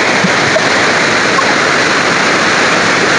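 A village waterfall stream pours in a steady, loud, close rush of cascading water, constant and unbroken with no voices.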